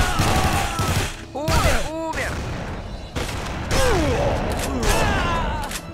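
Shotgun blasts and gunfire ring out in The Punisher video game, sharp booming shots with combat clutter and tonal game effects, steady and loud throughout.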